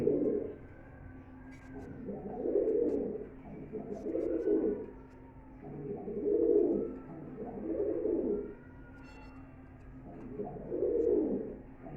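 Pigeons at a pigeon farm coo in repeated low, throaty rolling phrases about every two seconds, close and clear over a quiet background with faint distant sounds.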